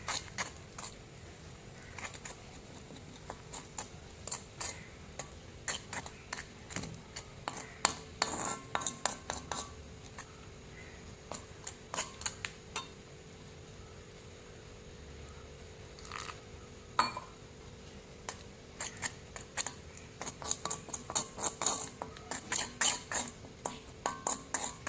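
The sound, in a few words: mixing hair dye powder in a bowl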